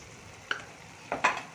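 Spices being mixed into chana amti, a chickpea curry, in a pan: a few faint, quick stirring scrapes and light clinks over a quiet background.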